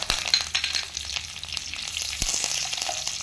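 Curry leaves and mustard seeds sizzle in hot oil while dhokla is being made, a dense continuous crackle close by with scattered sharp pops and spatters throughout, and no voices.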